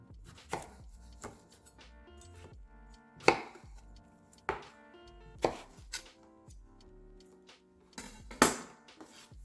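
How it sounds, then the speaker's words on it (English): A knife slices through cucumber on a cutting board in sharp, separate chops, roughly one every second, close and crisp, with faint kitchen clinks between strokes and no talking. "the next thing we're gonna do is slice up our cucumber"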